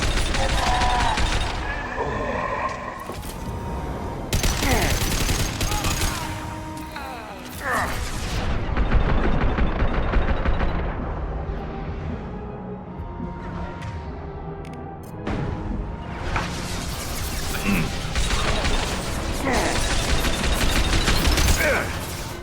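Gunfire in Mass Effect 2 on Insanity difficulty, loud repeated volleys and bursts of shots with booms, running in intense clusters with short lulls over twenty seconds, and occasional voices.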